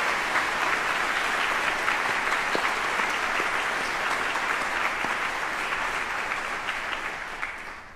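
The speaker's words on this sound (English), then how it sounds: "So how about a round of applause for everybody who made this ceremony so special?" Sustained applause from a large audience at a military retirement ceremony for a Vice Chairman of the Joint Chiefs, dense steady clapping filling the room and tapering slightly toward the end.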